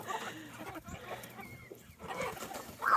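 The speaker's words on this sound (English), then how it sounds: "Oh, the rooster." Chickens and a rooster cluck and call around a farmyard pen, several birds close by with uneven, overlapping bursts that grow louder toward the end.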